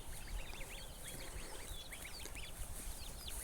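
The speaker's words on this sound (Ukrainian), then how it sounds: "Підростають гусенята, підростають курчата." Many goslings and chicks peeping in high, rapid chirps, a busy overlapping chorus heard fairly close but quietly, with no talking.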